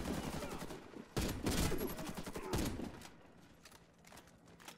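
Rapid bursts of automatic gunfire in the shooter game Warface, loud and close, crackling in clustered volleys with a few sharper shots, over a busy game soundscape.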